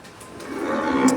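A cow at a cow shelter lets out a low, drawn-out moo that swells and grows louder toward the end, heard nearby over a quiet background.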